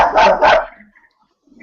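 Two loud barks from a dog outdoors, close together in quick succession, followed by near silence with faint low noise.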